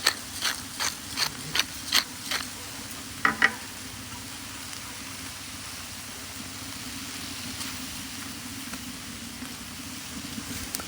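Peppers and onions fry in a discada over a rocket stove with a steady low sizzle, opening with a run of sharp rhythmic scraping or stirring clicks that fade into continuous quiet frying.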